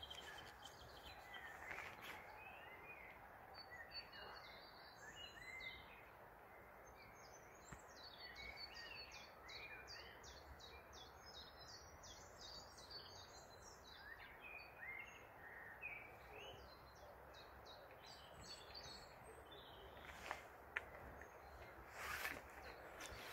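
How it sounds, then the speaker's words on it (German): Songbirds chirp and twitter outdoors in spring, with many small, bright calls scattered over a constant soft ambient hiss, fairly distant and moderately faint. "Jetzt lasse ich dich nochmal die Vögel zwitschern hören."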